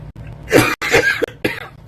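Several harsh coughs in quick succession, close and fairly loud, with brief gaps between bursts.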